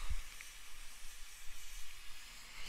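A paint can burning while making homemade charcoal gives a steady, faint hiss and crackle of sizzling, continuous with no voices, a quiet close-up fizz.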